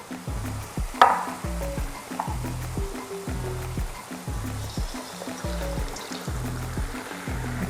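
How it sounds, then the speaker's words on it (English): Cassava pieces sizzle and crackle in hot oil, a steady close frying hiss with repeated low stirring and scraping sounds throughout. "fry the mogo."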